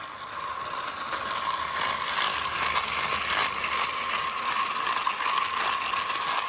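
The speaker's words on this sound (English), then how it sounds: "Listen to the motor." Motor of a motorized Thomas and Friends Percy toy train running, a steady whirring buzz with faint ticking, heard very close and continuous without talk.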